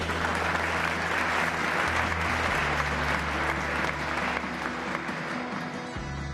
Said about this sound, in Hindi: आप लोगों से गुजारिश है कि ताली बजाकर इन बच्चों का स्वागत करें